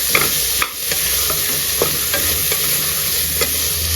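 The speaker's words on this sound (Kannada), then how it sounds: "ಇವಾಗ ಕಟ್ ಮಾಡಿರೋಂಥ ಸಾಂಬಾರು ಸೌತೆಕಾಯಿ ಸೇರಿಸ್ಕೊಳ್ಳೋಣ. ಇದೆಲ್ಲ ಮಿಕ್ಸ್ ಮಾಡಿಕೊಂಡು" Chopped sambar cucumber stirred and fried in a pan for a South Indian kootu: steady close sizzling with a spoon scraping and clacking against the pan in irregular strokes.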